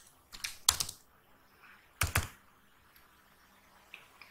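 Code being typed on a computer keyboard, in two short bursts of quick clicking keystrokes near the mic, separated by quiet with a few faint stray taps.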